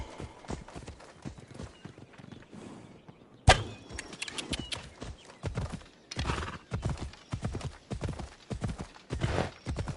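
Horse galloping in the PS4 game Assassin's Creed Odyssey: steady, loud clip-clop hoofbeats with a neigh near the start, continuing briskly throughout.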